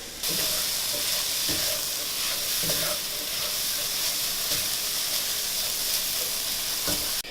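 Seasonings and vegetables toasting in a pan for plant-based sloppy joes, a constant loud sizzle broken by periodic spoon scrapes and clicks as everything is stirred.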